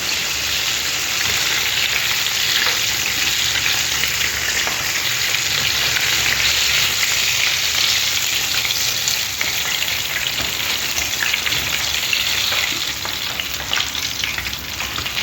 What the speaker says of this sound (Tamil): இன்னும் எல்லாத்தையும் வறுத்து எடுத்துக்குவோம்.